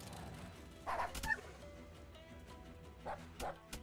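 A dog unit in the fantasy strategy game Wargroove gives short yipping barks, a single bark followed by a pair of quick yelps a few seconds later, over quiet game audio.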